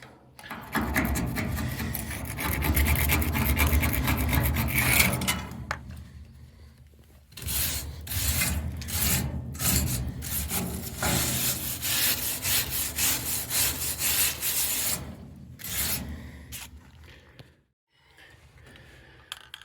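Wire brush scrubbing rust off the corners of a horse trailer, a steady rasping scrape that runs in long continuous strokes with brief pauses, close and loud with no talk.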